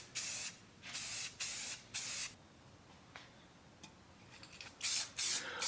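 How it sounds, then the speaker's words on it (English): An aerosol can of Satin Canyon Black spray paint hisses in short bursts while coating a tile coaster case, about seven sharp close sprays of under a second each, separated by brief quiet pauses. "I sprayed a couple coats of this Satin Canyon Black and then finished it off with a few more coats of clear"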